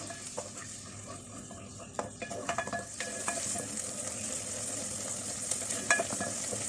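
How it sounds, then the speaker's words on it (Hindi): Onions frying in hot oil in a karahi for white chicken karahi, a steady bright sizzle with occasional scraping stirs and utensil clinks against the pan. "अब इसमें जो प्याज हमारे पास है ये प्याज इसमें डालेंगे और प्याज को थोड़ा सा लाइट गोल्डन होने तक इसमें फ्राई कर लेते हैं।"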